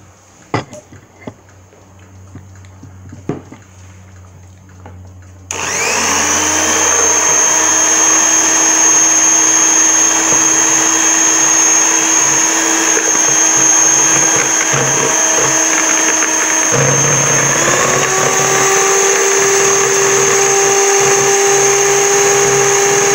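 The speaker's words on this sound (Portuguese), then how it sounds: "vou botar aqui uma caixinha de chantilly de, acho que é 250 gramas, e vou bater na batedeira" An electric mixer whips a 250 g carton of chantilly cream. Its steady, loud motor whine with ringing overtones starts a few seconds in, after quieter handling noises, and shifts slightly in pitch partway through.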